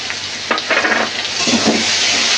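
Green chilies and a premixed spice blend for chili chicken sizzle loudly in hot oil in a pan, a close continuous fry with a few bursts of stirring.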